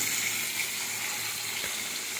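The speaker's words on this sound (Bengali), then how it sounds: "ঘি দিয়ে পনিরগুলি ভাজছি" Paneer frying in ghee gives a steady, close hiss with faint crackles and pops throughout, no voices present.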